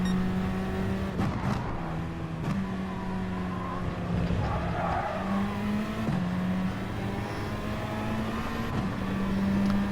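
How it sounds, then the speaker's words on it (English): Race car engine in an FIA racing video game at Interlagos, accelerating out of a corner with a steady, loud engine tone that rises and shifts pitch, plus brief tyre noises. "it was moments like this when I'm accelerating out of a corner"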